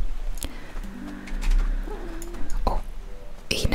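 A small bird-like creature in a Moomin video game gives a soft, cooing call in a short wavering series, over quiet game ambience with a few light clicks.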